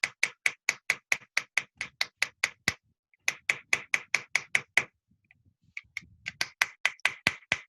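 Hammer striking a chasing tool on metal during repoussé work: rapid, evenly spaced sharp taps in bursts of about a dozen, separated by short pauses, close and clear.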